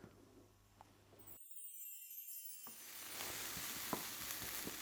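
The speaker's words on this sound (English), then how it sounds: "what we need to do with these onions is just to soften them first" Onions softening in a pan in a Chinese takeaway kitchen give a faint, steady sizzle that swells slightly louder toward the end, with a few soft clicks and no talking.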